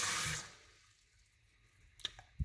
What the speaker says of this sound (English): And the water still works.